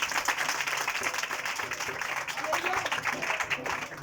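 Church congregation applauding at a Hindi-language sermon, a dense, steady wash of clapping that fills the whole stretch at moderate volume, with crowd noise mixed in.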